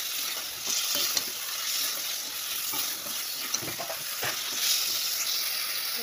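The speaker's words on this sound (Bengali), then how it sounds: "কষানো হচ্ছে, দেখো" Tomatoes, turmeric and spices being stirred and sautéed in a pan for egg curry, a steady close sizzle with scraping stir strokes throughout, no talking.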